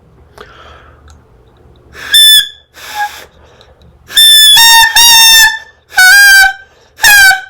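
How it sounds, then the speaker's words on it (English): Shrill, reedy notes from a cheap imported saxophone sound in short blasts with pauses between, loud and close, the tone thin and squawky. "This is a very cheap imported saxophone."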